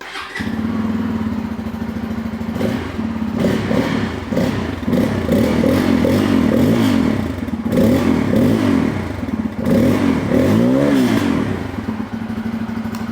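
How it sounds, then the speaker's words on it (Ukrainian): A Bajaj Pulsar N250 motorcycle engine starts up and idles with a deep, bassy rumble, then is revved several times, the pitch climbing and falling with each twist of the throttle. "якщо б я вам не завів мотоцикл і не покрутив газюльку"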